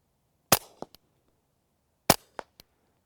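Two suppressed .22 rimfire pistol shots through a Rugged Oculus 22 silencer, each a sharp, close crack followed by a quick mechanical clack and faint echo, spaced about one and a half seconds apart in a quiet setting.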